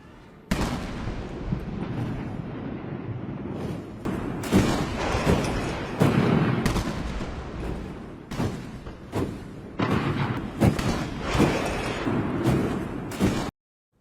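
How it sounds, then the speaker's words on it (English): An 80-gun salute opens China's military parade, with heavy booming blasts fired at uneven intervals, loud and echoing across the open parade grounds. "So kicking off the spectacle was an 80-gun salute."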